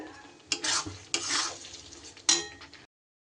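A spoon stirring yogurt into a pan of mutton curry, giving short scraping swishes over a light sizzle, close by, with the sound cutting off abruptly at the end.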